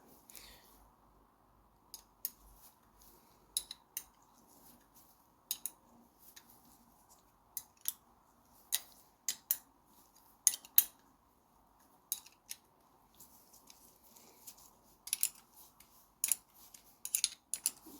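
Nuts are tightened on a Classic Mini radius arm bracket, heard as faint, scattered metallic clicks and ratcheting ticks in short bursts against a quiet background, with no talking.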